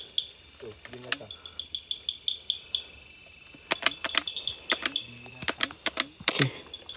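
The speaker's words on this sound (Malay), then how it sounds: "Dia adalah sejenis serangga." Cricket-like insects chirping at night in mountain forest, repeated short high trills and clicks in bursts, fairly close, with faint rustling and no talk.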